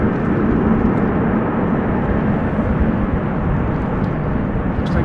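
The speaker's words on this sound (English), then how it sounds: "What's that coming this way? It looks like an Embraer 175 to MST." An Embraer 175 approaching Amsterdam Schiphol, heard as a steady, broad jet roar that holds at a constant loudness throughout, with no voices present.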